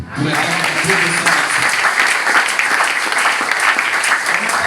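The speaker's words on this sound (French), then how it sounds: "Est-ce qu'on peut acclamer?" A church congregation bursts into loud, dense applause that runs steadily for several seconds, with voices mixed into the clapping.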